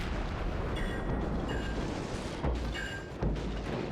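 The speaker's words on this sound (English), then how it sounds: "Shoot a few shells into him for good measure" USS Benson destroyer firing shells in World of Warships, loud heavy booming gunfire over a constant low rumble, with sharp cracks and brief whistling shell tones in quick succession.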